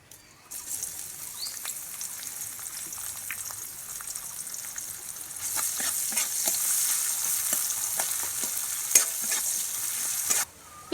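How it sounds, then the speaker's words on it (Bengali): Chopped onions with a bay leaf go into oil left from frying fish. A moderate sizzle swells louder about halfway through, with frequent spatula scrapes and taps and no talking. "পেঁয়াজ হালকা করে ভেজে নিয়েছি"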